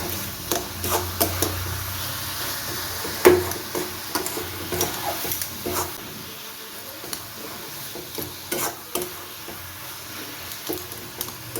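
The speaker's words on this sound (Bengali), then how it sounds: "আমি পনেরো মিনিট ধরে নারকলের পুরটা রান্না করছি আর এক আধ মিনিট নাড়াচাড়া করলেই আমার পুরটা সম্পূর্ণ তৈরি হয়ে যাবে" Coconut filling being cooked and stirred in a pan, with a soft low sizzle under repeated scraping and tapping of a spoon against the pan at an uneven rhythm, close by and without talk.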